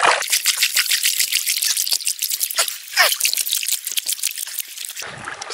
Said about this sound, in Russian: сейчас мы воду выкачаем.